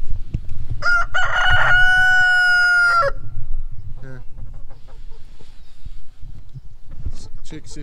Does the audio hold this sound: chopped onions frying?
no